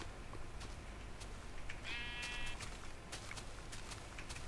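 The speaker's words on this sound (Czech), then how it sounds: "Hele ovce!" A sheep bleats once in a Minecraft-style video game, a brief faint electronic baa heard over quiet ambient game sound and scattered clicks.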